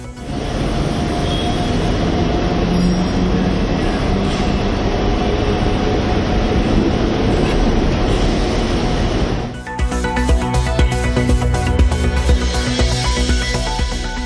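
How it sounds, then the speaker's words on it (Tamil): Velachery–St. Thomas Mount elevated suburban train running loud and steady, its rolling roar changing near the end to a rhythmic clatter of wheels and carriages. "வேளச்சேரி பரங்கிமலை இடையே பறக்கும் ரயில் சேவை தொடங்கியது"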